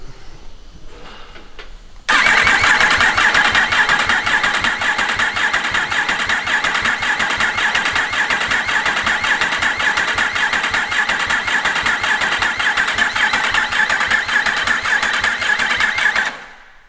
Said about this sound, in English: Make sure start motor's not getting too hot.